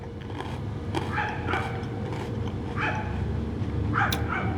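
Restless dogs near a kitchen pantry, giving several short yips, whines and barks scattered through a steady background hum, moderately close.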